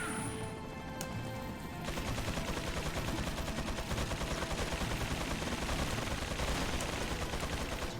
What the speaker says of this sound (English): That's a lot of guns going off at the same time.